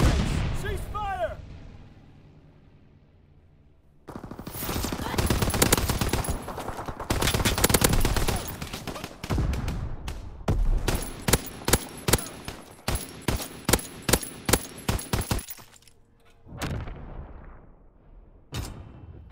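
Flak gun firing in a World War II shooter game, heavy booming bursts followed by a run of about ten evenly spaced loud shots, then a few scattered reports near the end, with game voice callouts around it.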